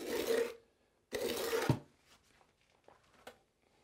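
Steel trowel spreading mortar mud across a shower pan: two close, loud rasping scrapes, the second longer, followed by a few faint taps and scuffs.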